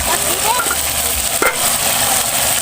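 Ubod (palm heart) cooking in used oil in a pan on a used-oil kalan burner, a loud, steady sizzling hiss with a brief stirring scrape midway, with no talking.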